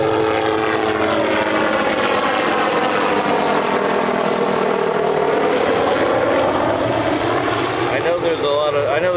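A jet airplane at Honolulu airport roars loudly and steadily for the whole stretch, its broad engine rumble sweeping in pitch as it passes close by, with a voice speaking faintly under it.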